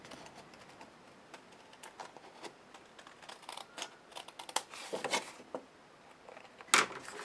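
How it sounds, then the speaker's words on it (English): Scissors snip excess paper card stock from the edges of a handmade greeting card, giving several short, crisp cuts that come close and fairly quiet, with one sharper snip near the end. "then I'll just use my scissors to trim off the pieces that are hanging off the edge"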